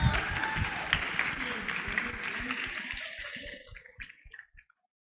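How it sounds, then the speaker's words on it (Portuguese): A church congregation at a Sunday school gathering applauds its teachers with brisk, full clapping that carries for about four seconds before tapering off into scattered last claps and silence; a voice may be faintly audible beneath. "Palmas pra..."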